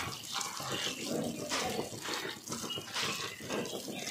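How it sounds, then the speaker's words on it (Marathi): Puffed rice is washed in a bowl of water, giving continuous sloshing and swishing with a few splashy surges, close and fairly soft, without talking. "चांगलं पाण्यामध्ये चिरमुरे असं स्वच्छ धुवून घ्यायचे आहेत."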